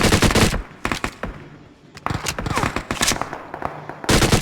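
Bursts of rapid automatic gunfire from a Scorpion in PUBG Mobile, loud and close, in several volleys separated by brief pauses, with a faint voice mixed in.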